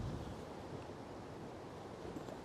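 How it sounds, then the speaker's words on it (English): Strong wind gusting outdoors in a bee yard, a broad continuous roar and rumble of air buffeting the microphone, steady and fairly loud with no voices. "Wow, it's so windy."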